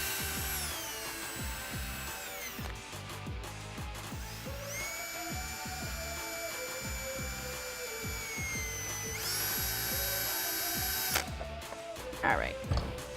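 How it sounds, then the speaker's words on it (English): A power drill fitted with a 7/64 inch bit widens a hole in plastic while installing a Jeep Wrangler JK roll bar LED courtesy light: a steady whining motor hum that shifts pitch, with a short rattling burst near the end. "So we stepped it up to a 7/64 inch drill bit. So I'm just going to widen the hole just a little bit"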